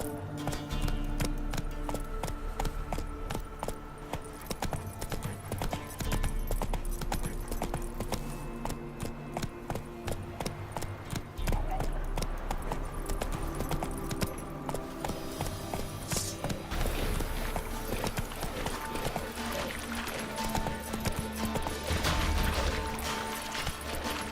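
Roach the horse gallops in The Witcher 3, with a continuous rhythmic clatter of hooves at close range over a dense game soundscape that runs without pause.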